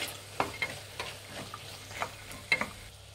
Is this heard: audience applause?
no